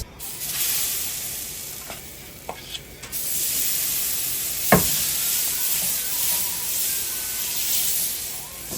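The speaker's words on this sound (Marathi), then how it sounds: "तव्यावरती चिले सोडायचे आणि छान निघतात" Multigrain cheela batter sizzles steadily on a hot tawa, a close, continuous frying hiss with a few soft scraping clicks and no talk.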